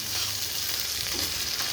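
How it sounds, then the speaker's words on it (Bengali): Fish heads frying in oil in a pan, a dense, even sizzle at close range with faint stirring scrapes and no talking. "ভাজা হয়ে গেছে, এবার মাছের মাথাগুলো দিয়ে দিব।"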